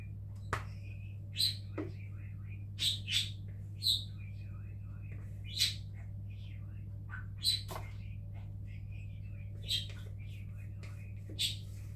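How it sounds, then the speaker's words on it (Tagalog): A pet bird chirps noisily indoors in a home kitchen, sharp bright calls repeating every second or two over a steady low hum, fairly close and with no speech. "ang ibon namin napaka ingay"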